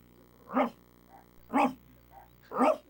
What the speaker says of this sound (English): Barking means play